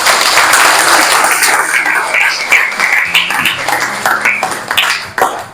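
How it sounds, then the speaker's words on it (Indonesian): Classroom applause with hands clapping steadily and fairly close, a dense burst that thins and fades out over several seconds as the clapping tapers off. "Silakan dulu kasih tepuk tangan."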